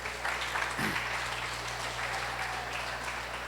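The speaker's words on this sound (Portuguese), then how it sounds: "Pode aplaudir vocês." An audience claps together in a steady, fairly loud wash of applause that lasts throughout, with no speech over it.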